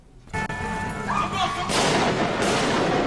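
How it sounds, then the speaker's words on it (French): A sharp bang rings out, followed by a sustained burst of loud, crackling gunshots that continues to the end, heard amid street noise in Paris. "Des coups de feu en plein Paris."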